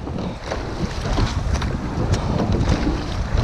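Rowing boat crew paddling on open water, a steady rush of wind and water noise with faint rhythmic splashes throughout, loud and close with no talk.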